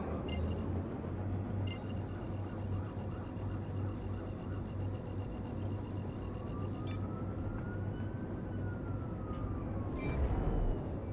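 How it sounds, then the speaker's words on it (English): An emergency vehicle siren passing outside, faint and distant, rising and falling in pitch behind a steady hum of background noise. "It's got a siren going past at the moment."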